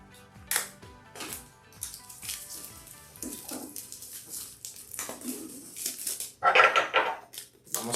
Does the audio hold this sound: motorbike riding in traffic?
no